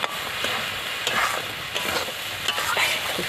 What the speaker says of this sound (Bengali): এইবার আমি কষাতে লাগবো